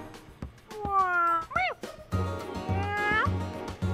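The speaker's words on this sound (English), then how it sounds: "Annoying kitten." A kitten in the video game D4: Dark Dreams Don't Die meows loudly and repeatedly, several drawn-out, wavering cries in a row, up close with little else around them.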